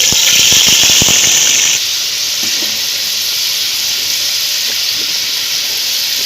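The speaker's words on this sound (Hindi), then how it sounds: "ये घी हमारा अच्छी तरह गर्म हो गया, अभी छाननी रखी है घी में, इसमें हम चने की दाल पहले डालेंगे" Chana dal dropped into hot ghee in a strainer sizzles loudly, an intense hissing fry with crackling pops at first that settles into a steady, dense sizzle.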